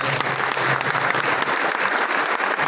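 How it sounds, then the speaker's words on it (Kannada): An audience at a public function in an ashram setting claps loudly and steadily, a dense wash of many hands applauding without pause for a few seconds. "ಅವರಿಗೆ ಜೋರಾದ ಚಪ್ಪಾಳೆ."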